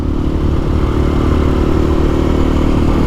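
A Templar X motorcycle rides along a winding local road, its engine a loud, steady mid-pitched drone with a rough clattering texture and constant wind rush, close and unbroken throughout, with no voices.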